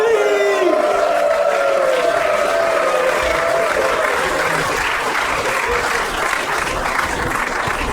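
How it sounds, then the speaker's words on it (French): Audience applause and light cheering for the winner of a game at a festival show, a dense steady clatter of many hands lasting the whole stretch, loud and close with some faint voices mixed in. "Bravo Armand, on l'applaudit."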